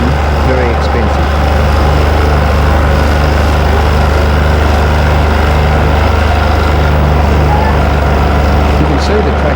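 A tractor rips soil in second gear while building contour banks, its engine droning loud and close with a heavy, strained, continuous low hum and steady rattle.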